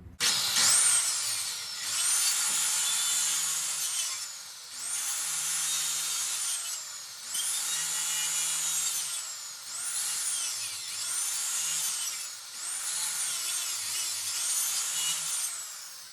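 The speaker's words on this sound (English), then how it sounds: "set my saw blade to it, and then I'm going to make a few cuts in that centerpiece" A power saw cuts repeatedly into the wooden centerpiece of a door built from leftover wood, each pass a high, buzzing whine lasting about two seconds, followed by a brief pause, repeated around seven times close by.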